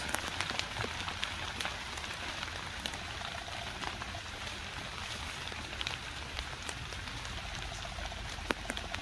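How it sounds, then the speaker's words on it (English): Rain pattering on the leafy tree canopy over a campsite in a cemetery, a dense, even hiss of drops with occasional sharper drips landing nearby, steady throughout and moderately quiet. "The rain's coming and going in waves."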